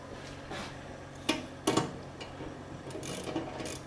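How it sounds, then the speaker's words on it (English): A 9/16 socket wrench ratchets as cutting edge bolts are tightened on a Kubota SCL1000 loader attachment outdoors, giving close mechanical clicks and a couple of sharper clunks over a steady background. "And I'll go ahead and torque them all down."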